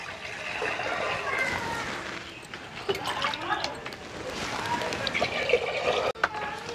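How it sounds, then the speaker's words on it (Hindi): Water pours into a rice pot set on a lit wood-fired stove, a close splashing trickle that rises and falls over several seconds, with someone speaking over it. "अब इसमें हम पानी डाल देते हैं।"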